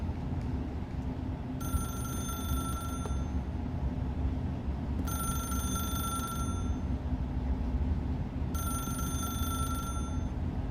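A telephone rings in The Stanley Parable, three separate bursts of a bright electronic bell spaced a few seconds apart over a constant low background hum.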